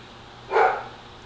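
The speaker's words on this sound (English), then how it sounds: "Once he gets it in his head to bark, there's not much I can do." A single dog gives one short, mid-pitched bark, fairly close, with a steady low background hum before and after it.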